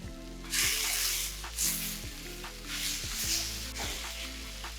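Vegetable chow mein noodles with sugar are stir-fried in a hot pan, crackling and sizzling loudly in repeated surges as they are tossed, over steady background music.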